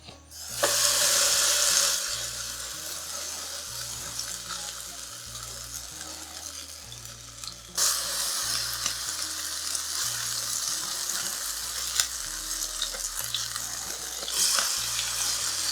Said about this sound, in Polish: I tak smażymy po kilka minut.